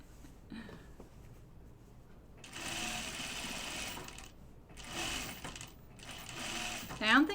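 Sewing machine stitching a Myosotis dress, working over a cutting mat, running in three loud bursts with short pauses between them, close by, with brief handling clatter near the start and end.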